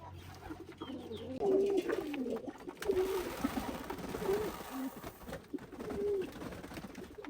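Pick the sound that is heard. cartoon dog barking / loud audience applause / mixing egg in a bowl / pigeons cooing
pigeons cooing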